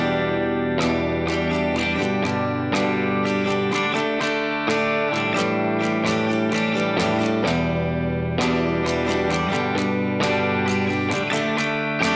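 An acoustic guitar strums the chords of a song slowly with its syncopated rhythm, bright and close, chords ringing out alone in a steady repeating pattern.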